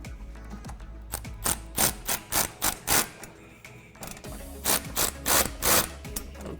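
A ratchet wrench clicks in rapid bursts while two 10mm bolts are reinstalled on an aluminum rear splitter under a 2015-2020 Ford Mustang, several close, loud ratcheting runs separated by brief pauses.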